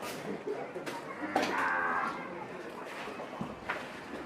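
A cow on a dairy farm lets out a clear, fairly close moo in the middle of the clip, with people talking before and after it.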